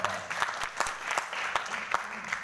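An audience at a motivational speech in Patna, Bihar claps in scattered, uneven bursts, with sharp individual handclaps standing out rather than a full roar, fairly close and with no talking over it.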